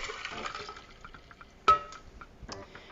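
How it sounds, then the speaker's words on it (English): Scorpion Bowl cocktail liquid is poured into a large communal mug over crushed ice, heard as quiet trickling and dripping with a single sharp glassy clink partway through. "All this is going to get poured in there."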